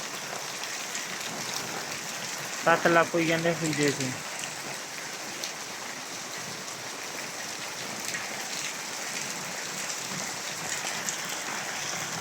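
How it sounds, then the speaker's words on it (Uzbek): Heavy rain pours steadily onto a site where aerated concrete blocks are stacked for building a house, with water running from a gutter; a constant close wash of rain continues throughout, and a brief voice speaks under it early on. "Shu yerdan chiqib bo'lmaydi, yomg'ir uryapti."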